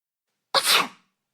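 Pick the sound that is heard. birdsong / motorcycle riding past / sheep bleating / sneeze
sneeze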